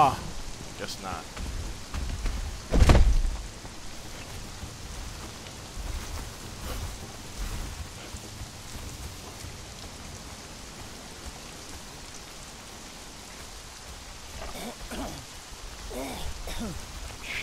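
Steady rain hisses throughout with occasional louder patters and a brief thump early on; faint voices murmur underneath. Rain in the video game Conan Exiles.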